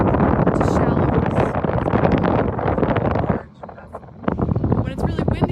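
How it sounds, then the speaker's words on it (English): Strong wind buffets the microphone aboard a sailboat on the Hudson River, a loud continuous roar that briefly drops near the four-second mark, then surges back, with muffled water and boat noise underneath. "When it's really windy like this"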